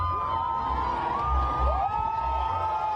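A huge crowd of around 500,000 young people at World Youth Day in Lisbon cheers Pope Francis as he passes through them. The roar is loud and steady, with whoops and shouts rising over it throughout.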